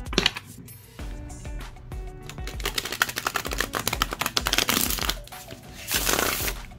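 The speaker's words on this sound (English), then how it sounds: "I love the way they shuffle." A tarot card deck is shuffled by hand, giving crisp, rapid flutters and riffling clatter close up, with bursts of denser card noise toward the end.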